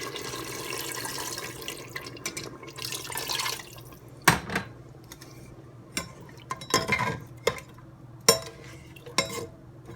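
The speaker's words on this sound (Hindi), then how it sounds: "अब हम इसमें डालेंगे 2 कप पानी।" Two cups of water poured into a pot of masala chops, a soft splashing pour followed by scattered clinks and knocks of utensils against the pot, fairly quiet with no talking.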